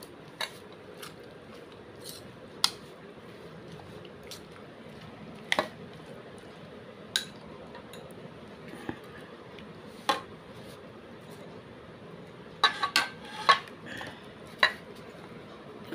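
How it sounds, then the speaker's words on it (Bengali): Chotpoti is mixed with spices in a bowl, with a spoon scraping and clinking against the side in scattered, irregular taps, some in quick clusters, over a quiet background. "এখন ভালো করে মিশিয়ে নিচ্ছি।"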